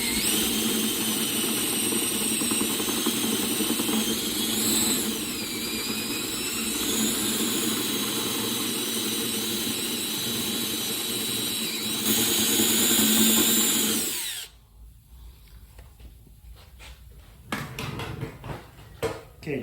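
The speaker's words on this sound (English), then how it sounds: "I'm gonna get a little bit of a bigger drill and we'll drill that out a little more" Power drill boring a larger hole in a Dodge Ram rocker panel assembly, with a steady loud whine that shifts pitch for about fourteen seconds before stopping abruptly, followed by quieter clanks and handling noise.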